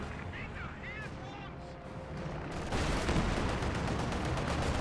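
Gunfire raking German Grenadiers in Company of Heroes 2: rattling shots and battle noise that swell louder partway through, turning into a dense, continuous clatter beneath commentary.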